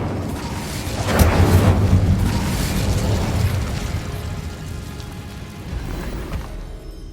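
An Incendio fire spell in Hogwarts Legacy lands with a loud burst and a rumbling, crackling whoosh that swells and then slowly dies away, with no voices over it.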